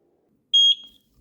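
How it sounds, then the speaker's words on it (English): A single short, high electronic beep from a eufy 2K Indoor Security Camera C24 pairing, sounds once, clean and clear against near silence, lasting about a fifth of a second. "Yep, I heard the beep."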